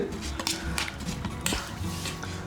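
Chicken wings get stirred with a mix of sauces in a pan, a spoon clinking and scraping against the metal in quick irregular knocks over a faint sizzle, close and fairly loud.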